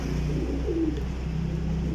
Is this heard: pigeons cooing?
yes